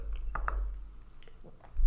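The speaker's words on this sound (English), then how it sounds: "chewing sounds are bugging you." Close, soft chewing of banana: a few wet, squishy bites and mouth clicks, fairly quiet and intimate, with no talking.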